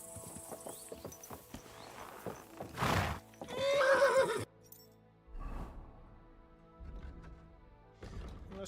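A horse in Kingdom Come Deliverance 2 gives a loud, drawn-out whinny, surrounded by quieter clip-clopping hooves and scattered mechanical clicks, with short bursts of movement noise before and after.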